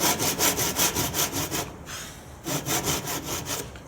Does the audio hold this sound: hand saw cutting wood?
yes